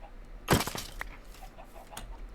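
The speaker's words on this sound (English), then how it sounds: "Have you noticed an increase of chickens recently?" Chickens clucking in Minecraft, a few short, fairly faint clucks and bursts spaced out over a quiet background.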